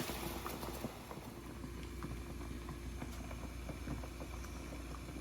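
Water simmers gently on low in a stovetop pot where frozen brisket is reheating, a steady soft bubbling with faint scattered pops, close by and without talk.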